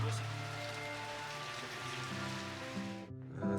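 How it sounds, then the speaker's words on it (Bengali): Heavy rain falls steadily in the high hill town of Nuwara Eliya, a dense close patter on surfaces that cuts off abruptly and then returns at the end, with a low tonal hum underneath. "বৃষ্টি যেন সময়ের সাথে সাথে আরো বেড়ে যাচ্ছে, একদম ঝুম বৃষ্টি যেটাকে বলে।"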